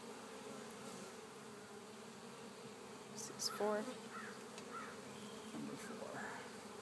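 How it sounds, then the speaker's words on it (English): Honeybees buzz in a beehive frame being inspected, a faint, steady hum throughout with a few brief closer buzzes, while a voice speaks briefly. "There's little bees in there."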